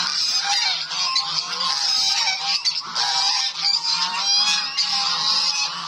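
A flock of Kars geese honks close by in a busy, overlapping chorus, loud and continuous, with no talking.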